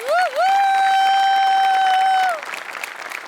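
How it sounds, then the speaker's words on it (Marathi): A studio audience at a Marathi comedy show claps in a dense, steady patter, with a loud, sustained whistle-like tone riding over it for about two seconds before the clapping carries on alone. "तुझ्यासाठी स्पेशल टाळ्या."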